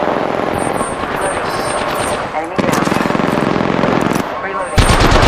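Rapid automatic gunfire in the video game Apex Legends, loud and close, with sustained bursts broken by short pauses amid game effects.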